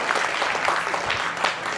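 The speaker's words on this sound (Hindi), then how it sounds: "जोरदार ताली के साथ स्वागत कीजिए संजीव पुरोहित" A theatre audience at a drama festival applauds to welcome an actor onto the stage, a dense, steady clatter of many hands clapping throughout with no voices on top.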